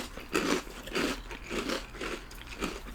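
Sugary fruit cereal crunched close up in the mouth, about five distinct crisp bites and chews spaced at a steady rhythm, fairly quiet with no talking.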